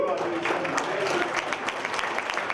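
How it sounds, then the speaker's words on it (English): A round of applause from the audience at a Thomson Reuters awards ceremony, with moderate, steady clapping heard somewhat distantly and lightly mixed with crowd murmur. "give yourselves a round of applause"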